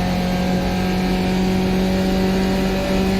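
The engine of a race car in the iRacing sim at Sonoma Raceway, running after an upshift to fourth gear, a loud sustained steady drone with little variation in pitch.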